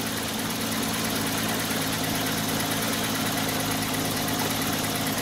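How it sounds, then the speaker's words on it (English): A BMW E30 wiper motor runs steadily with a loud, continuous mechanical hum and buzz, close up and unbroken, with no voices over it. "I know that this motor works. The thing turns."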